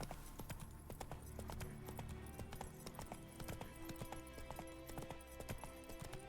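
A horse galloping in The Witcher 3 video game, with rapid rhythmic hoofbeats pounding steadily and close throughout, a faint snort or whinny mixed in.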